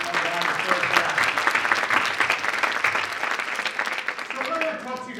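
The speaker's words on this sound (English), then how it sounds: "another round of applause for that" A 300-strong audience at a speech event breaks into sustained applause, dense clapping that swells and holds near at full loudness, with voices and a few cheers under it.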